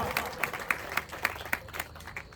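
An audience in a pandal claps at a devotional gathering. Scattered hands beat in a loose, fairly steady rhythm, moderately close and modest in volume, with no voices over them.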